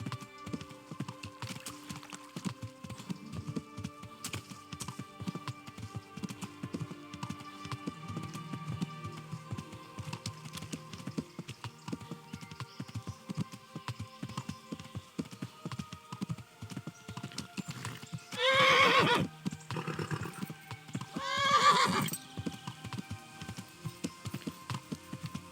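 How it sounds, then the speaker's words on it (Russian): Horse hooves clip-clop steadily at a run in the medieval video game Kingdom Come: Deliverance, with two louder bursts late on that could be neighs or snorts over the galloping. "Довольно далеко нас лошадь отвезла"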